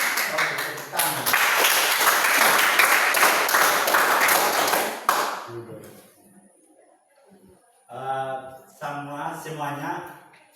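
Classroom applause during a high school teaching assessment, a burst of students clapping for about five seconds, then dying away into quiet with a teacher speaking afterward.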